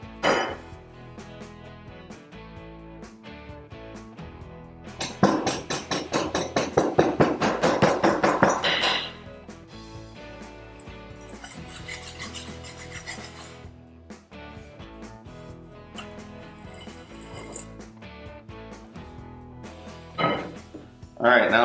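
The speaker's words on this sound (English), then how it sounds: "Now we'll fill it up one last time, dome up our sand above the top" Foundry sand being poured and packed into a mold for a lobster bottle opener casting, with scraping and rasping bursts, one loud sustained pour of grains, and scattered taps and thumps nearby.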